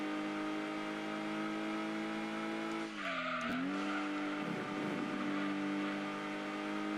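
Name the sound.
Mazda MX-5 Miata engine accelerating in Gran Turismo 2 video game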